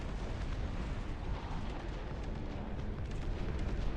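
Artillery fire pounds away in the real-time strategy video game Dust Front, a dense and continuous rumble of overlapping booms and blasts. The sound stays loud and steady throughout, with no talking.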